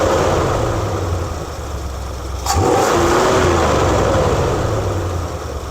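A 1973 Ford Econoline E200 van engine, freshly carb-cleaned and tuned, runs loud and close, its pitch rising as the throttle is opened and then held steady at higher revs.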